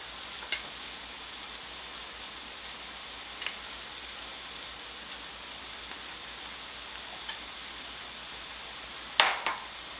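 Flour sprinkled into hot fat for a roux gives a faint, soft sizzle with a few small pops and clicks, quiet and steady, no talking.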